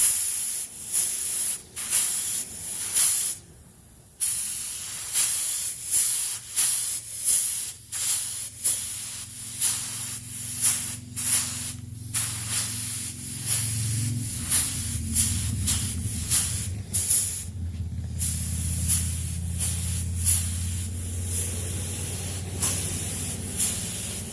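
A spray gun lays primer onto a Ford Explorer rear bumper at low pressure, coming in as a string of short hissing bursts that stretch into longer continuous sprays, close and loud, with no talking.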